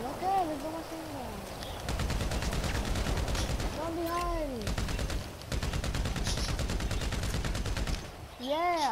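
Machine gun fire in GTA V Online: two long, loud sustained bursts of rapid shots separated by a short pause, with wavering tonal game sounds between and around them.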